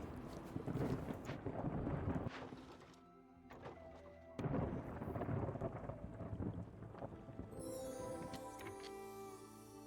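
Heavy rain pours steadily through a video game thunderstorm, broken by loud thunder cracks and deep rumbling rolls, with gusts of wind and a faint higher tone near the end.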